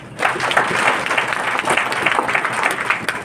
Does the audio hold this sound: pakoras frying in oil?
no